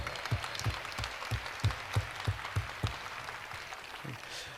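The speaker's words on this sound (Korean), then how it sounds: "하나님께 영광의 박수 드리기 원합니다." A church congregation claps in rhythmic unison, a steady beat of roughly two claps per second, with looser crowd applause mixed in and fading toward the end.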